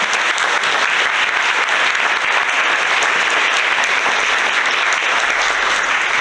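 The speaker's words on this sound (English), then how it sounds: "Can we give a round of applause to the Sitka Studio of Dance?" Dense, continuous audience applause fills a Chamber of Commerce gala hall for a local dance studio's performers, loud and even throughout with no talk over it.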